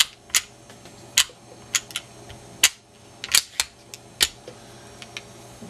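Springfield XD 40 pistol handled and checked during a field strip, with a series of sharp metallic clicks and snaps from the slide and parts, spaced irregularly, close and clear with no talk.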